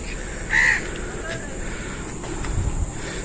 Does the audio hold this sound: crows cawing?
yes